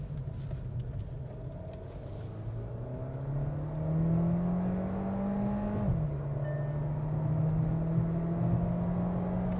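A Skoda Kushaq 1.5L car accelerating past 100 km/h, heard from inside the cabin: a steady engine whine rising in pitch, a brief dip at a gear change, then climbing again.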